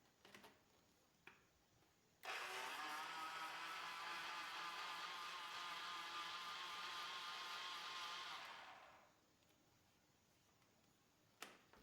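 A kitchen blender whirs loudly and steadily for about six seconds as it mixes cooled chocolate milk, starting abruptly and winding down, with faint clicks before and after.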